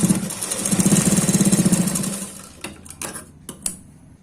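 A sewing machine stitching a blouse collar runs in a fast, rhythmic mechanical chatter for about two seconds, then slows and stops, followed by a few separate clicks and knocks.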